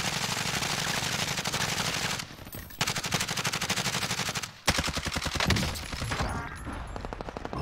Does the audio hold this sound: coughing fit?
no